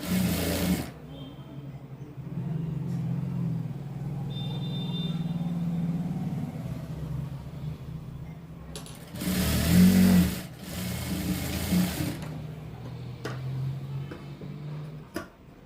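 A domestic sewing machine stitches a frock's folded side seam in a steady, close mechanical run, pausing briefly partway through before starting up again for a second burst.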